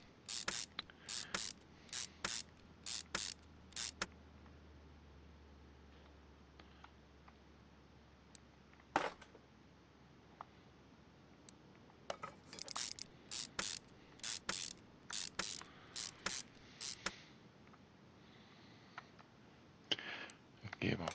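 Installing a gearbox and drive shaft in the video game Car Mechanic Simulator, with bursts of rapid mechanical ratcheting clicks and spray-like hisses in quick clusters, separated by quiet gaps, clear and up front.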